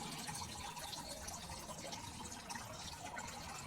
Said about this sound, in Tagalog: Nag-ipon pa ako ng tubig pambanlaw niya.